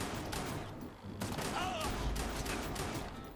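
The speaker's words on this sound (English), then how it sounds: "I just got slayed by his LMG." Light machine gun fire in the Watch Dogs 2 online game, a dense fusillade of rapid shots running through the clip with brief lulls, over in-game ambience.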